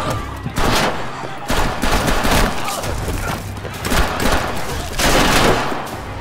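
Sustained automatic gunfire from a Alice in Borderland season 2 scene, loud bursts of rapid shots in several clusters across the whole span with heavy booming impacts and faint voices underneath.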